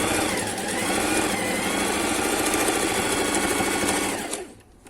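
A sewing machine runs continuously at a steady, fast whirring pace while stitching a fabric mask, close and loud, then slows and stops near the end.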